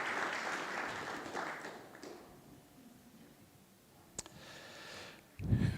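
Audience applause for an honoree at a community heroes luncheon, a broad wash of clapping that fades over the first couple of seconds, leaving a quiet room with a sharp click and a louder thump near the end.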